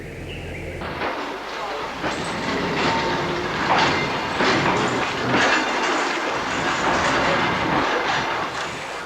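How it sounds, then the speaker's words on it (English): Kuranda tourist train running on the track toward Cairns, a continuous rumbling roll with clickety-clack of wheels and faint squeal, fairly close and steady. "As one of the trains returns to Cairns"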